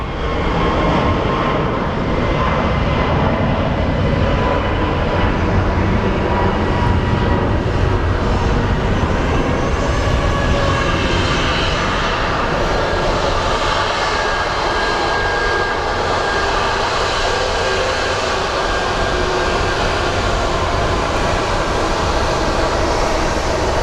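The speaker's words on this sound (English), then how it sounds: "our Hawaii flight is full speed ahead" An airliner bound for Hawaii accelerating down the runway for takeoff at Phoenix Sky Harbor, a loud, sustained jet engine roar that holds steady for the whole stretch.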